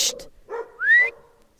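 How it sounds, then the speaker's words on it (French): Dogs next door bark and yelp in short bursts, one rising whine-like yelp standing out, moderately close and fairly loud, with no talk over them. "C'est les chiens de mon père et qui n'arrêtent pas d'aboyer."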